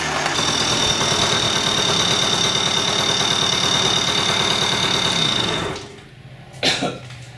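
A Yamaha PW50 motorbike engine running rich chugs with a loud, steady, uneven two-stroke putter, then cuts out abruptly and leaves near-silence broken by a brief clunk.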